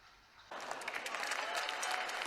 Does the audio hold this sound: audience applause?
yes